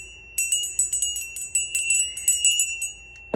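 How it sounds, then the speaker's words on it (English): A small bell is struck in quick repeated strikes, ringing out bright, close and clear, each note decaying before the next, with no voice over it. "I'm going to ring the bell really quick"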